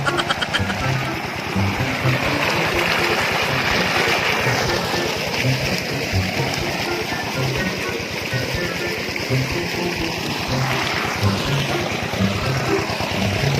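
Water rushing from a farm's irrigation supply at a cornfield, a loud steady splashing flow close by, with people talking faintly over it.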